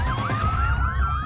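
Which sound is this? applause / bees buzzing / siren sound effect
siren sound effect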